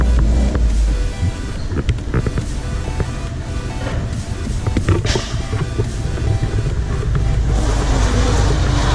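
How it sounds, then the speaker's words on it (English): A Stage 2 Subaru WRX STI roars on a dyno during tuning, a loud, rough sustained engine drone with sputtering pops and gusty noise throughout. "Sounds like his car farted."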